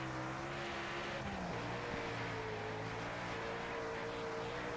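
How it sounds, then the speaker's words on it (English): A super late model race car engine in the World of Outlaws Dirt Racing video game drones loud and steady, holding a high rev with slight pitch shifts and no talk over it. "And I won't talk a whole lot during this so y'all can hear the engine."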